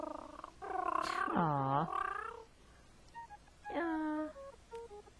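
A cartoon cat in the 1993 music game Lenny's Music Toons gives a couple of long, wavering synthesized meows with a soft purr between them. A person murmurs briefly under the sounds.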